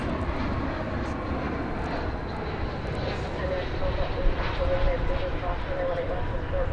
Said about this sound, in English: here it is. It's an Airbus A319-100